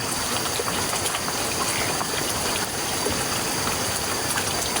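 Steady, dense rain pouring down with a constant broadband hiss, close and loud throughout, with no voices.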